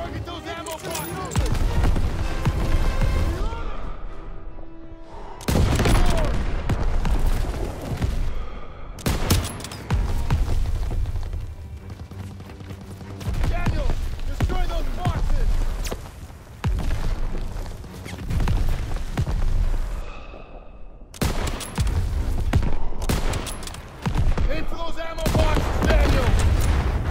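Sustained World War II gunfire in Call of Duty WWII as ammo boxes are targeted: loud, dense volleys and bursts with booms and crashes, broken by brief pauses, continuing throughout.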